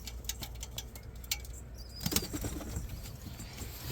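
Pigeons flapping their wings as they flutter down to the ground, a burst of wingbeats near the midpoint over steady low background rumble, with faint coos possible.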